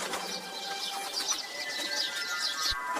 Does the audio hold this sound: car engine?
no